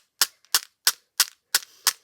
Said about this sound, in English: if they hear this noise, they know I'm doing my posca splats